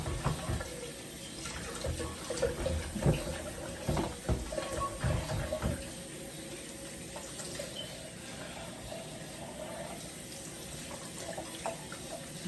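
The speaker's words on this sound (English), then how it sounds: "let me wash my blender right away" Running tap water over a blender being washed in a kitchen sink, a steady splashing flow with clattering handling sounds early on, then a smoother continuous stream, close by.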